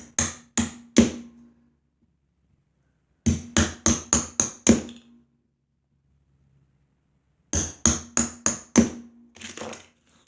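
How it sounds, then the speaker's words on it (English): Sharp, close knife strikes splitting wood into thin shakes, coming in three quick bursts of rapid taps and cracks separated by quiet pauses. "now what we're going to do is split them into shakes"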